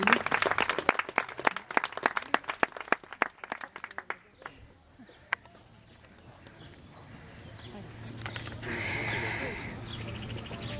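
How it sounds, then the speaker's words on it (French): A crowd at an equestrian show applauds with rapid, dense clapping that tapers off after a few seconds, leaving a quieter outdoor murmur and a rising background hum. "Et vous pouvez l'applaudir."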